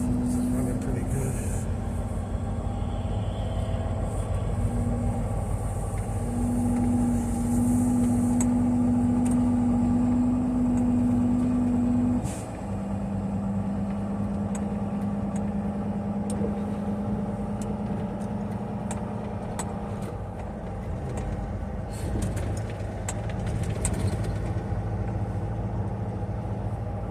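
Truck engine idling steadily after a stop at a truck wash, a low, continuous rumble with a sustained hum that shifts pitch midway, heard close throughout with some background activity.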